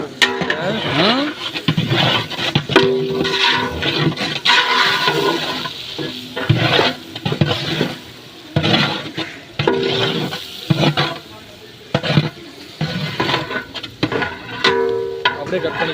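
Onions frying to golden brown in a pan, a loud, busy sizzle with constant stirring and scraping of a spatula, brief pauses in the clatter, and a voice speaking now and then over the cooking.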